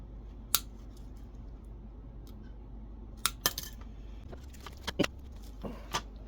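Snips of cutters severing parts off a ceramic heater being stripped for recycling: a handful of sharp, isolated metallic clicks and cuts spaced irregularly over a quiet room background, fairly close.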